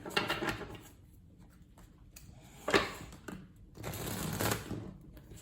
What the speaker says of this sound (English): Give these bad boys a good shuffle again.